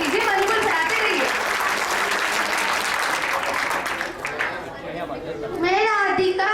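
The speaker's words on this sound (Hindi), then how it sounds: "जोरदार ताली से स्वागत कीजिए" Audience applause rings out at a school Republic Day celebration as a young girl is welcomed to the stage to recite a poem, steady clapping filling most of the moment before a voice and chatter come through near the end.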